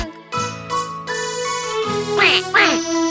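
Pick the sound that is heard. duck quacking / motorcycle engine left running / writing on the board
duck quacking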